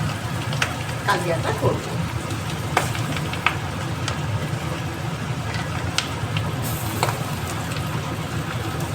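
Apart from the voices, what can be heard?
frying bora fritters in oil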